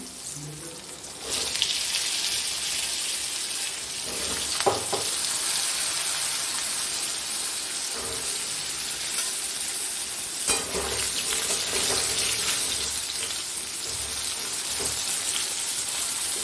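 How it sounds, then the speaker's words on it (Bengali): Potatoes fry in oil left over from frying prawns, a loud continuous sizzle that jumps up as they go in and holds steady, with a few scraping stirs. "এবার ওই মাছ ভাজার তেলেই আমি আলুগুলো দিয়ে দিলাম"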